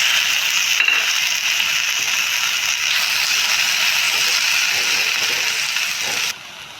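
Finely chopped tomato frying with minced garlic in a hot pan, a steady loud crackling sizzle that runs continuously and drops off abruptly just before the end.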